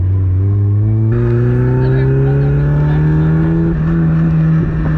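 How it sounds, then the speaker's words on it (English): Stock NA Mazda Miata engine pulling at full throttle, a loud steady drone whose pitch climbs continuously through the gears, heard from inside the car for the whole stretch. "That was full throttle."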